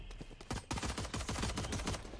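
Rapid bursts of video game gunfire crackle and pop in a dense, continuous volley over about two seconds, loud and close with no talking.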